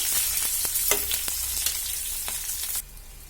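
Green and dried chilies sizzle steadily in a hot pan while being stirred, with short scraping strokes over the frying, before the sizzle drops away near the end.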